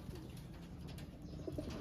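A pigeon coos softly at a distance, a few low, rounded calls over a faint, steady background hum, with no talking.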